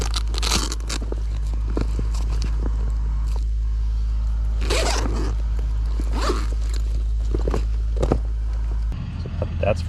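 Repeated zipper pulls on a rooftop cargo carrier bag rasp close by in short bursts over a steady low hum, with a few scrapes and handling noises in between.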